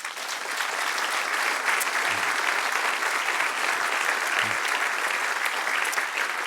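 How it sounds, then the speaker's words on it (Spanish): A church congregation breaks into steady, dense applause that holds evenly for several seconds, full and sustained, with a couple of faint low thumps beneath. "Denle un aplauso al que reina."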